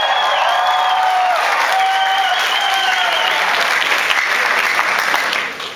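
Convention panel audience at Melbourne Armageddon Expo breaking into loud, sustained applause with cheers and whoops from a large crowd, steady throughout before fading at the end.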